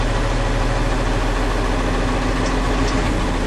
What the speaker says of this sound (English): So I'm just going to pull forward about 5 miles an hour.